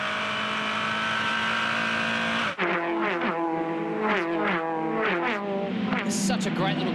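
Formula Ford single-seater race cars in a 2009 Australian championship race sweep past close by, their engines rising and falling in pitch as several cars pass in quick succession, with a commentator talking over them.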